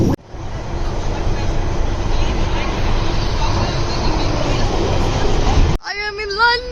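A London Underground Piccadilly line train rumbles loudly and steadily for nearly six seconds, a broad roaring rush, then cuts off abruptly as a voice begins speaking.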